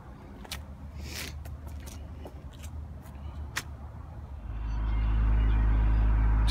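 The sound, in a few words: Honda Accord engine started and idling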